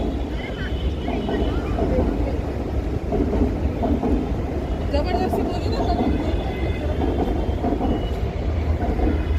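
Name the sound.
Mumbai train passing by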